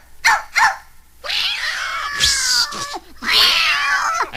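Cats yowling and caterwauling as a dog chases them off a canary, with two short sharp cries followed by long wavering screeches, loud and close, with barking mixed in.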